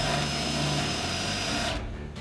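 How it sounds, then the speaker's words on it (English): A special spot weld drill grinds through spot welds on a Volvo P1800 body, a loud, steady whirring buzz with a rattling edge that cuts off near the end, leaving fainter motor noise. "what I have here is a special drill which is made for drilling out spot welds"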